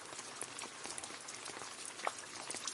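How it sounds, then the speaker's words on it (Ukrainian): Summer rain falls steadily, a faint, even patter of drops with a few slightly sharper taps, heard alone without voices. "Рясний дощ життєво важливий для водяних лілій, яких ще називають лотосами"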